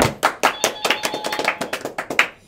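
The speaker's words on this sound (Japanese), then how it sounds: "拍手" A small group of quiz show participants claps, giving brief, uneven applause of crisp, close hand claps in a loose rhythm.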